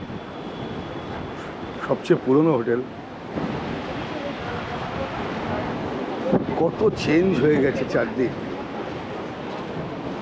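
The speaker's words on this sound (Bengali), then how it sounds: "আজকে হাওয়া দিচ্ছে খুব, হয়তো জানি না অডিও কেমন আসছে, হাওয়ার জন্য সাউন্ডটা একটু কাঁপতে পারে" Strong seaside wind by the old hotel road at Digha buffets the microphone in a constant low rumbling roar, under someone speaking in two short stretches.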